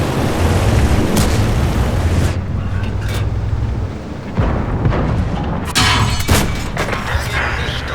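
Loud tank shell impacts and cannon booms from the World of Tanks video game, a dense barrage of blasts with repeated sharp hits over a constant roaring battle background.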